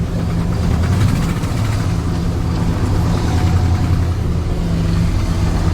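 A big block squarebody truck drives along with a steady, loud low engine rumble and road drone, close and continuous without any talk.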